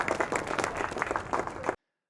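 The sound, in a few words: audience applause at a science cafe talk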